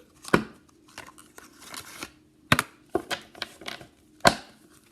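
Playing cards being shuffled by hand, giving a few sharp snapping riffles and softer papery slides in irregular bursts, close and fairly quiet with no voices.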